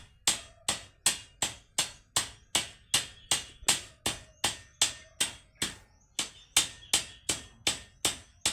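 Steady, evenly paced hammer blows on a joint, about two strikes per second with one brief pause midway, each crisp impact ringing briefly and close by, with no voices.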